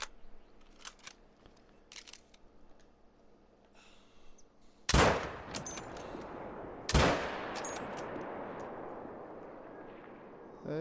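Two loud rifle shots from a 6.5 rifle at sika deer in a hunting video game, each a sharp crack with a long decaying tail, about two seconds apart, following a quiet stretch of faint ambient sound.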